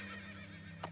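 A horse whinnies in the Princess Peach Showtime video game, a long wavering neigh with a clear tonal shake, followed by a couple of quick clip-clop hoof sounds at the end.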